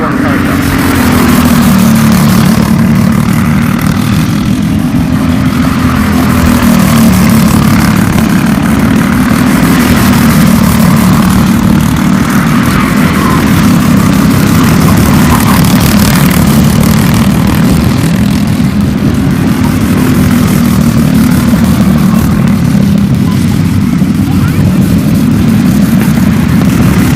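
Racing go-karts at 61 Kartway drone continuously in a loud, sustained engine buzz that rises and falls as the pack circles the track.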